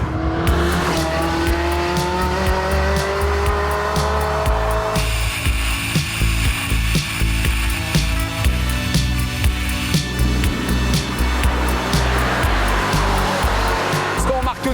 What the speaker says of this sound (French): ce qui est fabuleux, c'est bien sûr le bruit du moteur